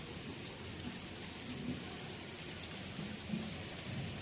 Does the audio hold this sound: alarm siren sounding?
no